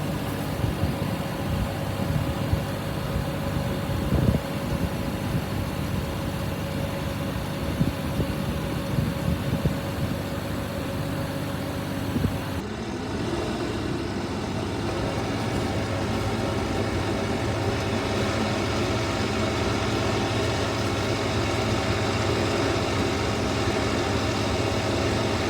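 An Arbos tractor engine labours steadily in first creeper gear under heavy load during a drawbar pull test, a continuous loud low drone with a slight change in tone partway through and no talk.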